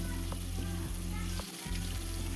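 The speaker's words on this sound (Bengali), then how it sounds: "ম্যারিনেট করে রাখা মাছগুলোকে আস্তে আস্তে তেলের উপরে সাজিয়ে দেব" Marinated hilsa fish laid into hot oil tempered with nigella seeds, for mustard hilsa, sizzles in a loud, steady hiss with small crackles throughout.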